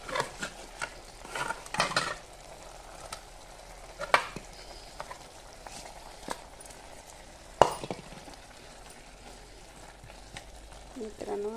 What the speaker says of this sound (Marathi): आता ह्यात मटण टाकून घेतलं. जरा हलवून